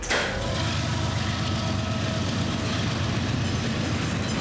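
A train rolls through a busy railroad junction in Columbus, a loud continuous rumble of wagons with clickety-clack from the wheels, close by and steady throughout with no voices.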